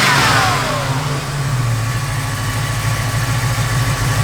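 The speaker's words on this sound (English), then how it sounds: "Truck really runs and drives." A 1955 Ford F100 pickup truck's engine runs steadily at idle with a loud, low, even rumble close by, briefly rising at the start before settling, with no talk.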